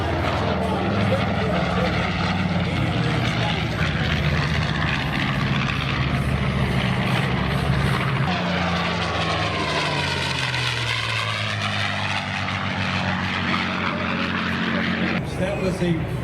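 A North American B-25 bomber flies past at an airshow in Santa Maria, California, its piston engines droning loud and steady before the pitch sweeps down as it passes and recedes, with an announcer talking over it.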